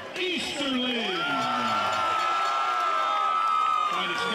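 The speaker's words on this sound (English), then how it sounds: "A round of applause for Derek Easterling." An MMA event crowd greets fighter Derek Easterling, a 145-pound fighter from Daly City, California, with sustained loud cheering, whoops and whistles over a steady roar.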